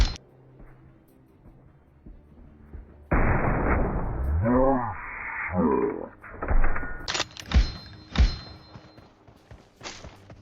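Gunshots from a mobile shooter game's team deathmatch ring out as several separate loud cracks and thumps, with a voice speaking over a stretch of the background noise.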